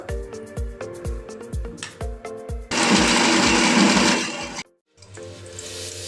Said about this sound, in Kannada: ತೆಂಗಿನಕಾಯಿ, ಸಾಸಿವೆ ಹಾಗೂ ಹಸಿಮೆಣಸನ್ನು ರುಬ್ಕೋಬೇಕು ಫಸ್ಟು